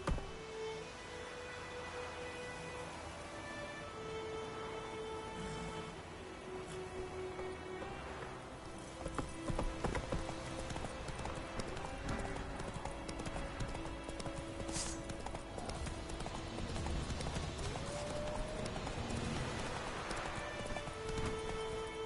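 Geralt's horse Roach from The Witcher 3 galloping and trotting, a steady rhythmic clip-clop of hooves close by, with game music and ambience underneath and an occasional whinny.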